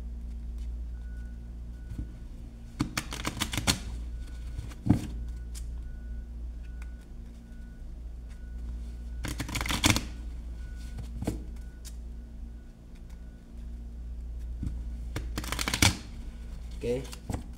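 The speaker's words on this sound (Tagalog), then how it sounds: "Ngayon, balasahin ko na." A deck of playing cards being shuffled during a card trick, three distinct riffling bursts spaced several seconds apart, close and crisp over a steady low background hum.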